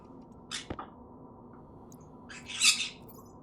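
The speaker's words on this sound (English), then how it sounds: "You guys are pretty birds." Pet birds in a quiet indoor room give two short bursts of squawking, a brief call early on and a louder, harsher squawk near the end.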